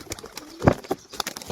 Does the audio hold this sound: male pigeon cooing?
yes